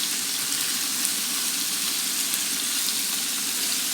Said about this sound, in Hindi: बस हमने शैलो फ्राई कर लेनी है दोनों साइड से